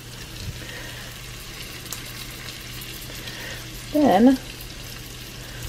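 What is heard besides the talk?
shrimp frying in oil in a pan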